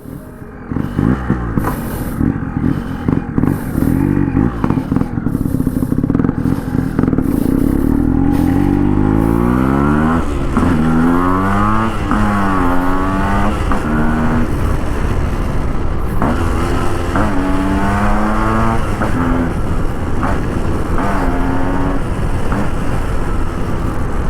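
A restored Yamaha RX135 two-stroke motorcycle is ridden, its engine loud and close throughout, revving up and down through gear changes with rising and falling pitch sweeps over a rough, rattly exhaust drone.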